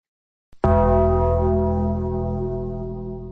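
A single deep gong sound effect struck once, loud and close, with a rich booming tone that slowly decays and sustains to the end.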